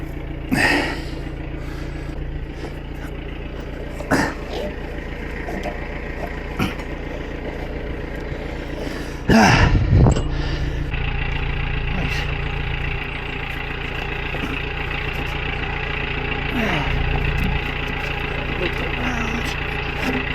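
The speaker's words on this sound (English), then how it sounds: "I'll leave that engine running" A boat engine idles with a steady, continuous low rumble throughout, with occasional knocks and a louder thud partway through.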